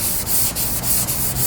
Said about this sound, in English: We had done 80 at first with the Bondo, and